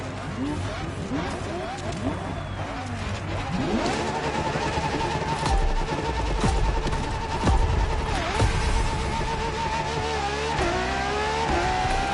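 A 2013 LaFerrari hybrid supercar from Maranello revs loudly, with rising and falling engine sweeps and surges that stay continuous and close throughout.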